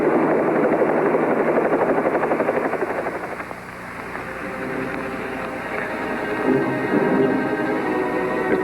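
A helicopter drones steadily with a throbbing rotor chop, loud and close, dipping slightly midway before building again; no one speaks.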